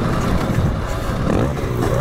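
A four-stroke motocross bike being ridden, its engine a steady, loud, continuous drone heard close and unbroken, with no talk.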